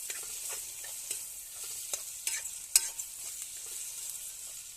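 Ginger, garlic and fennel paste sizzles softly in a pan for a homestyle chicken curry, with a utensil scraping and clinking against the pan in irregular strokes.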